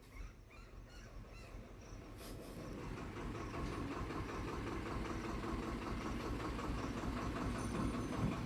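A tractor engine running on a farm where fertilizer is being spread, a steady rumbling drone that grows slightly louder and closer, with no voices.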